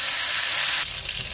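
Chicken drumsticks fry in a pan with wine added, producing a loud, close sizzling hiss that drops to a softer bubbling sizzle partway through.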